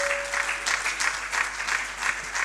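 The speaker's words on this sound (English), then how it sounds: "Please give him a round of applause." Audience applause at a leadership event, a dense steady wash of many hands clapping at moderate loudness throughout, with a brief tone at the start.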